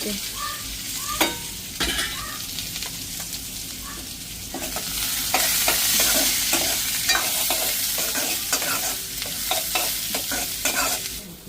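Onions sauté in a pan, stirred repeatedly with a spatula that scrapes and taps in an irregular rhythm over a continuous close sizzle that grows stronger halfway through.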